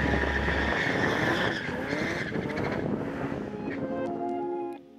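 A BMW E36 with an S54 engine doing a tire burnout on worn-out tires, heard as a loud, continuous tire squeal with engine roar that holds steady, then tapers off near the end.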